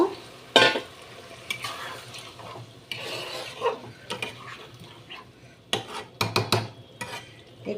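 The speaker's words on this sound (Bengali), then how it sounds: "আমি আলুগুলোকে এবার ছেড়ে দিচ্ছি কারণ আলুগুলো অনেকটাই সেদ্ধ হবে একটু জল দিয়ে দিলাম সামান্য" Potatoes and a splash of water going into frying masala in a pan, a sharp sizzle burst followed by intermittent spoon scraping and stirring clatter, with a few louder bursts of sizzle toward the end.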